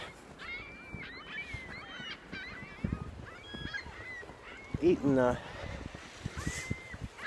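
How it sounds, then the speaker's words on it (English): A flock of seagulls calls around a pond littered with dead fish after a storm, with scattered high cries and squawks near and far while someone talks over them. "Bunch of seagulls here."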